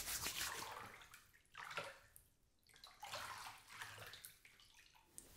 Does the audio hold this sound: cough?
no